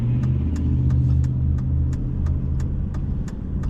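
Car engine rumbling steadily as the vehicle is put in gear and pulls away, a low continuous drone with a faint revving rise, heard from inside the car.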